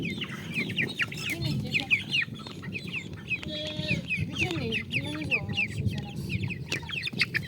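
Chickens, among them a naked-neck hen, cluck and squawk continuously in a farmyard, with overlapping calls close by and a few higher chirps.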